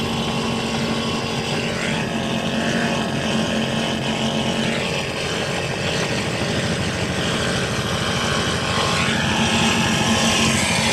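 A steady, loud offshore racing powerboat engine roar with a constant droning hum that continues without a break, running at high speed through 2 to 3 foot mixed seas.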